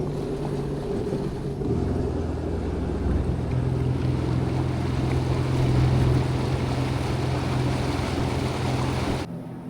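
A Sea-Doo RXT 325 personal watercraft rides across a glassy alpine lake, its engine a steady low drone with water rushing and wind noise, holding constant before cutting off abruptly near the end.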